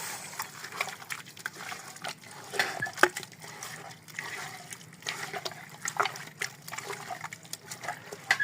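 Beef biryani marinade with tomato sauce and milk powder is mixed by hand, producing wet, squelching, sloshing sounds in uneven bursts, fairly close and moderately quiet.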